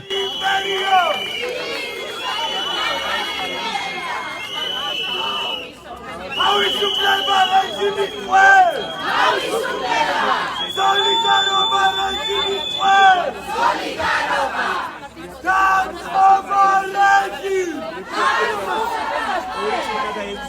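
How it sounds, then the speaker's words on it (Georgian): A crowd in a courtroom and its courtyard erupts after a verdict: dense chatter and babble with repeated loud shouts and raised voices, continuous and close, rising and falling in waves. "განაჩენის გამოცხადებას სასამართლოს დარბაზსა და ეზოში ხმაური მოჰყვა."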